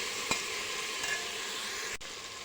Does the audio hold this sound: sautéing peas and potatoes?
yes